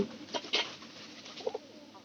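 A few soft, short pigeon coos sound at a modest distance over quiet background, with no voices.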